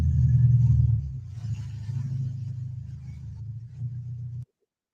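Engine of a car that has just parked, a steady low idling rumble that holds for a few seconds, eases slightly, then cuts off abruptly into silence.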